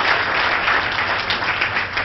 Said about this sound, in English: Now that one I should let you continue to clap